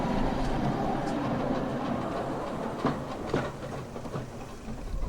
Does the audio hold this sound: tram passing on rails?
yes